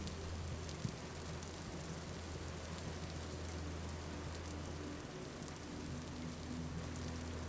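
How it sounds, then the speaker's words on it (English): Steady rain falling in the survival game Vintage Story, a dense continuous hiss heard from inside a forge workshop, even and unbroken with a low hum underneath and no voices. "you can fully hear the rain and everything"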